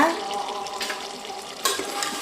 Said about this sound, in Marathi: हे मस्त शिजत आहे बघा